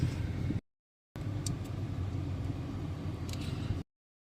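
Steady low rumble of road traffic with cars driving past, faint and continuous, cut by a brief gap of silence, with a couple of light clicks near the start and end.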